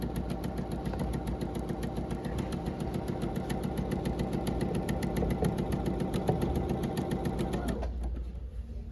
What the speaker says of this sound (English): And then we're going to start sewing.